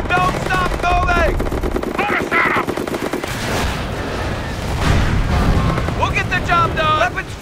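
Machine gun fire in a Company of Heroes World War II battle, a dense continuous rattle of automatic weapons with booming blasts, loud and close, while soldiers shout over the battle noise.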